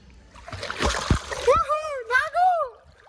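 Water splashes in a few quick bursts as someone swims on a hot day, followed by voices talking close by.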